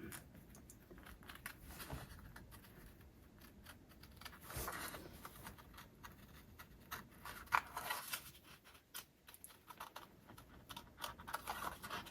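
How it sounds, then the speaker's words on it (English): Scissors fussy cutting cardstock for a card project, giving soft, irregular snipping and scraping rustles at close range with no talking. "So when you're doing the fussy cutting, you can just be moving the cardstock as opposed to moving the scissors so much."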